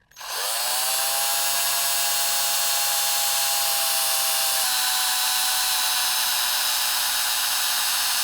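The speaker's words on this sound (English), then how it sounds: "I'm pilot drilling the strut and then putting a dimple" A power drill spins up and pilot drills a strut, a loud, steady high-pitched whine that holds at one speed and then drops slightly in pitch midway through.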